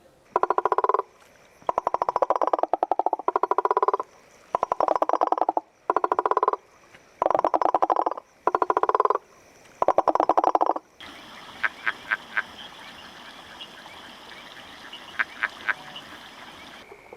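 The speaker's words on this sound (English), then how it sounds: "One of the ways to distinguish different species of frogs from each other is to record the male's mating calls." Male frogs give mating calls in the Congo rainforest: loud, regular bursts of croaking pulses repeat about every second for ten seconds. Fainter, rapid chirping calls then continue over a steady chorus of night insects.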